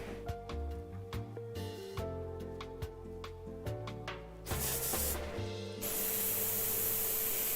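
An airbrush spraying, heard as a steady, bright hiss over the last second and a half, after a stretch of other tonal background sounds.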